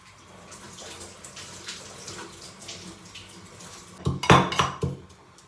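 Ginger being pounded for tea in a home kitchen, a cluster of sharp metallic clanks and knocks near the end after a quieter stretch of clinking and background rustle.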